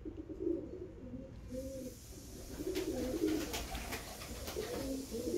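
Pigeons in a loft with nests and eggs coo close by, with soft repeated throaty calls rising and falling over a low background hum.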